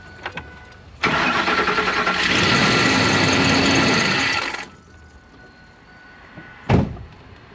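A 2006 Ford F150 engine cranks and catches, then runs at a loud, steady idle for a few seconds before cutting off; a sharp knock or door thud follows near the end.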